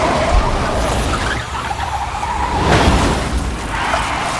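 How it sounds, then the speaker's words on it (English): Car skidding and crashing, a dense, noisy rush of tire screech and impact, loud and close throughout with a sharper burst near the end, no talking. "But at this moment, the car crashed."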